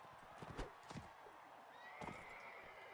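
Horse neighing in the Mount & Blade: Warband Nova Aetas mod, hoof clatter and short snorting bursts, then a faint whinny, quiet under a steady din of battle.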